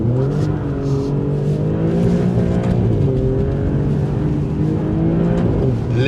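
Alfa Romeo Giulia Quadrifoglio accelerating hard with wheelspin, a loud, close engine note climbing steadily through the revs for several seconds and filling the whole stretch without a break.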